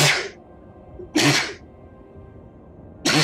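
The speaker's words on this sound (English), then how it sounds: "Uh-oh, sneeze." Three separate sneezes, each a loud, sharp burst of breath roughly two seconds apart, close up with quiet room tone in between.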